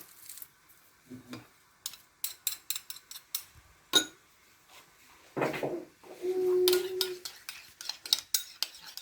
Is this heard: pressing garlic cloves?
yes